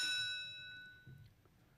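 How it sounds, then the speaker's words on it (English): At the start of a greyhound race at Monmore, a bell rings once, clear and bright, and its tone decays slowly while faint crowd noise murmurs underneath. "There is the bell."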